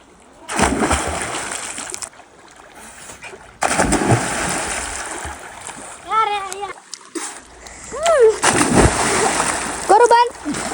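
Water splashes in bursts as people swim in a village lake, with loud sloshing throughout and spoken voices heard over the splashing in between.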